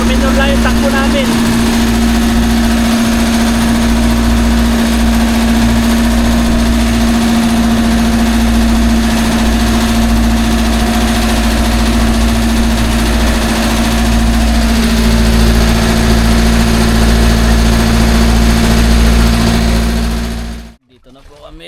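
A smoking, overheating vehicle engine runs slowly and steadily, a loud continuous drone with a strong low hum and vibration, and the sound cuts off abruptly at the end.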